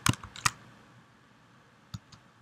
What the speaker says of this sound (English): I can do so by typing image display